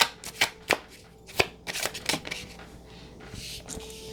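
A deck of tarot cards is shuffled and riffled by hand, giving a run of crisp flicking, slapping and fluttering bursts, close and fairly loud, with no talking.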